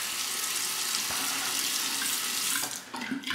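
Tap water runs steadily into a sink to rinse a straight razor during a wet shave, a close continuous splashing that tapers off near the end.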